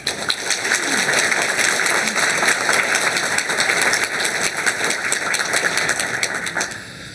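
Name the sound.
congregation applauding in church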